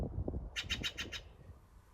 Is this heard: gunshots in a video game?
no